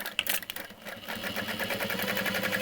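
A sewing machine with a long stitch length sews down the side of a handbag, starting with a few clicks and then running in a fast, steady, close-up mechanical whir on its own.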